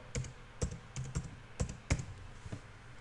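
Keys tapped on a computer keyboard while entering text in SketchUp, a handful of sharp, close clicks in an irregular rhythm over a quiet room hiss.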